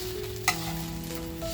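Pomfret stuffed with kharda and wrapped in turmeric leaves crisping in a pan, with a soft steady sizzle and one brief scrape or clink of a utensil, no talking.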